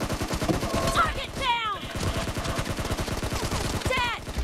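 Gunfire in the mobile battle game PUBG Mobile, a steady rapid stream of automatic shots with a few whooshing bullet sounds, while a voice briefly talks over it.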